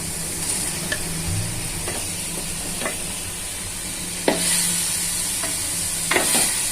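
Chicken tikka pieces are stirred into a sizzling masala in a home kitchen pan, with a steady fry hiss throughout and a couple of sharper scraping stirs standing out near the end.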